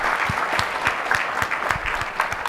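An audience at a mortgage technology event applauds steadily, dense clapping from many hands that stays fairly loud and even throughout, with no talking.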